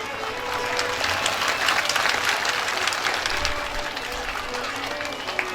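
Devotees at a Shrimad Bhagwat Katha gathering in Aura, Madhubani break into sustained applause, a full, even wash of many hands clapping at steady loudness with faint voices underneath.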